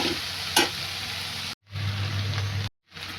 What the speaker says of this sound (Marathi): मी बघा व्यवस्थित परतून घेतले ना, मी व्यवस्थित ढवळून घेतले.